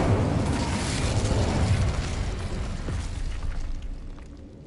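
Incendio fire spell cast in Hogwarts Legacy bursts out as a loud, rumbling whoosh of flame that roars for about two seconds, then fades into a crackling, dying tail.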